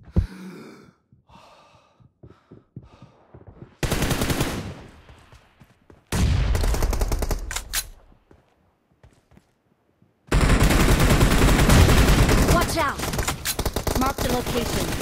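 Gunfire in the PUBG Mobile team deathmatch arena, long loud bursts of rapid shooting in several blocks, broken by quieter stretches with breathing and scattered shots.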